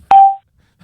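A single short electronic tone from a malfunctioning phone, loud and close, clean and steady for about a third of a second before cutting off into silence.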